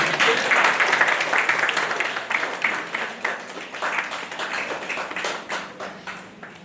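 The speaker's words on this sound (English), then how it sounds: "we should clap for the audience for patiently listening to it." An audience at a national seminar on AI in cybersecurity claps together, a dense burst of applause that starts strong and gradually thins into scattered claps.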